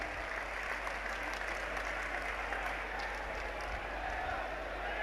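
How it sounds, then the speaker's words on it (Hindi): Sustained applause from a large crowd at a political election rally in West Delhi, continuous clapping heard at a distance with a low background hum. "जोरदार तालियां बजा के अभिवादन करना है"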